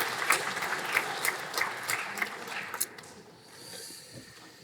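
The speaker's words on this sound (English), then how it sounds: "Let's give a round of applause to the" Audience applause at a graduation ceremony, a dense burst of clapping with a few louder claps that fades out after about three seconds, leaving quiet room tone.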